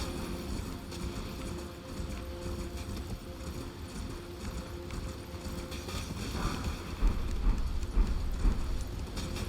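A horse in Elden Ring gallops, hooves clip-clopping at a steady rhythm over wind-like rushing noise, growing a bit louder toward the end, with no talking.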